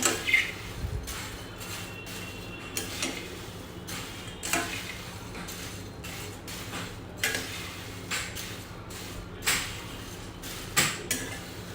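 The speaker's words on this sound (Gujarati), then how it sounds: "હવે આ બધી જ વસ્તુને સરસ રીતે મિક્સ કરી લેવાની છે." Puffed rice tossed with spices and sev in a pan, giving light scattered clinks and scrapes of a spoon against metal at an irregular pace, fairly quiet against a steady background.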